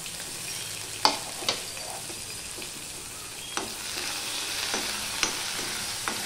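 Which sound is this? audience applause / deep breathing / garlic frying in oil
garlic frying in oil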